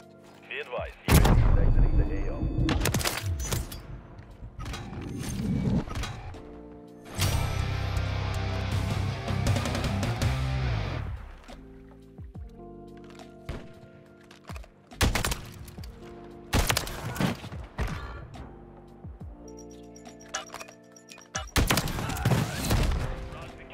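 Sniper fire in a shooter video game cracks out as sharp, loud single shots with echoing tails spaced several seconds apart, mixed with busier bursts of game action, and a player talks between shots.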